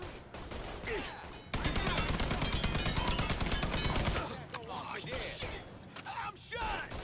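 Sustained gunfire in the Mafia 3 video game, a dense automatic-weapon burst lasting a few seconds amid scattered shots and mechanical clatter, with voices talking over parts of it.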